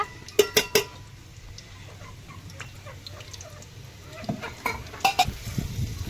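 Onions fry in hot oil in a pan, a faint background sizzle broken by sharp metallic clinks and scrapes of a spoon stirring, clustered near the start and again toward the end.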